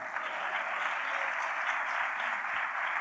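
A church congregation applauds with sustained, dense clapping that holds steady and even throughout, without speech.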